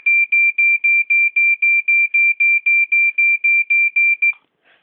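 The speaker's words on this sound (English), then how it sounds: "This is just another battery smoke alarm" A battery-powered smoke alarm under test sounds a loud, piercing electronic beep about sixteen times in a fast, even rhythm, then cuts off abruptly, with nothing else audible around it.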